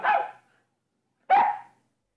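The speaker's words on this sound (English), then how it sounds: "In the garden, Nana looks at the sky and barks." A dog gives two separate sharp barks with a pause between them, each close and clear with no other sound around.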